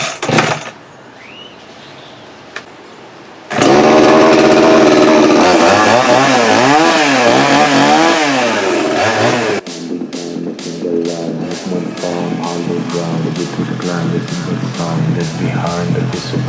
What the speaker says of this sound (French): moi je vais chercher la tronçonneuse et on attaque